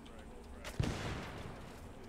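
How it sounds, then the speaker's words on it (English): A thrown frag grenade explodes in a single muffled boom that decays quickly, heard at moderate distance against quiet background noise. "Alright, I'm throwing a grenade, frag out."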